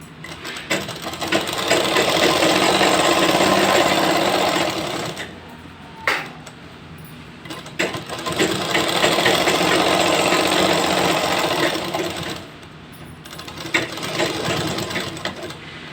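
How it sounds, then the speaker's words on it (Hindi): A sewing machine stitches elastic onto the waistband of ladies' pants in long, loud, steady whirring runs, close up. It pauses briefly twice between bursts of stitching. "पूरे में हम इसी तरीके से सिलाई चला देते हैं।"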